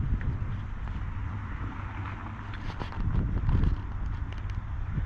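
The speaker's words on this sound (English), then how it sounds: "Wind's freshening." Freshening wind ahead of a thunderstorm while fishing outdoors, a constant low buffeting roar across the microphone that swells slightly midway, with faint knocks underneath and no speech.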